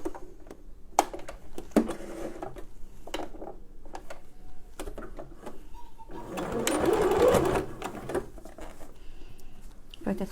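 A sewing machine stitches elastic onto a garment waistband in bursts of rapid mechanical chatter, with a longer steady run near the end, close and clear, while a person speaks between the runs.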